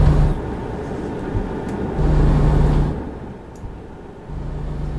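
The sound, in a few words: truck engine running loudly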